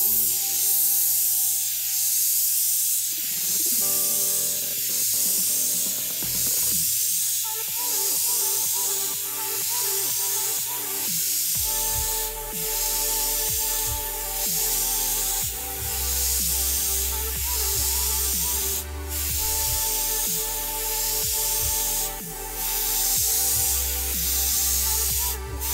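An airbrush sprays white paint onto a model canal boat in a steady, unbroken hiss that runs throughout, with a faint tonal hum underneath.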